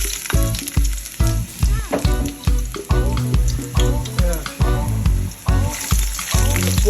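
Ginger sizzling and frying in a pan alongside half-cooked pork for liver igado, a steady loud crackle with stirring scrapes and pulses throughout, close up and without talk.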